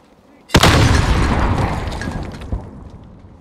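A grenade explodes in Call of Duty Warzone, producing a single loud, close blast with a long crackling, rumbling decay and a smaller thump soon after.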